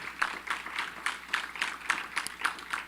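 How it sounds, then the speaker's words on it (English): Audience applause for award recipients at a community fundraising awards dinner: a steady run of clapping with soft, regular peaks, held at moderate level throughout with no talking over it. "Another round of applause for our recipients."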